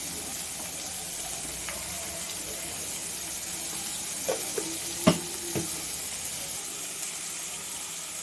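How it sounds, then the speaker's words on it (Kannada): Mutton fries in oil with a soft, continuous sizzle and hiss, and a few light stirring knocks and scrapes cluster partway through. "ಚೆನ್ನಾಗಿ ಹಾಕಿ ಫ್ರೈ ಎಣ್ಣೆಲ್ಲ ಒಂದು 2 ನಿಮಿಷ ಫ್ರೈ ಮಾಡ್ಕೊಳ್ಳೋಣ"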